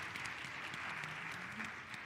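Town hall audience applauding the panelists, a steady wash of clapping from a crowd filling the whole moment, with a faint voice murmuring underneath.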